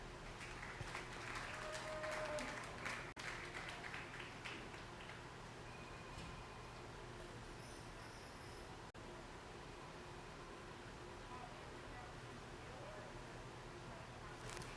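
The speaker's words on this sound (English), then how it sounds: "Give them a round of applause." Audience applause for winners at a livestock show, a brief burst of clapping in the first few seconds that fades into faint room hum and background noise.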